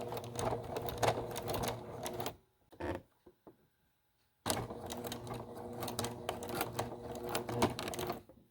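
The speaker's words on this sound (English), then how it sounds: "I'm going to stitch it on the machine again" Sewing machine stitching fabric, a close, steady mechanical whirring run, a short pause with a few clicks, then a second sustained run of stitching.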